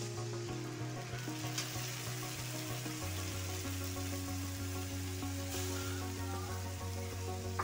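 Onion, garlic and masala frying in a pan give off a steady, even sizzle that runs for several seconds, with a low tonal hum underneath.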